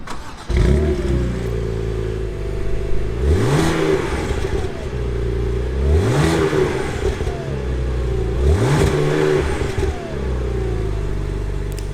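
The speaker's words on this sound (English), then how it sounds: "let's start up this engine here so that you can hear that" A 2016 BMW Z4 with a 2-liter engine starts up and settles into an idle, then revs three times in an even rhythm, each blip rising sharply and falling back, loud and close with no talk.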